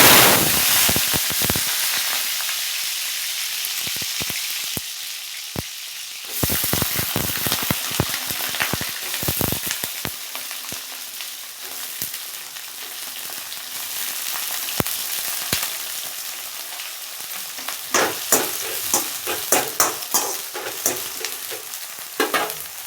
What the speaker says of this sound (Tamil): கடுகு நல்லா பொரிஞ்சு கத்திரிக்காய் போட்டு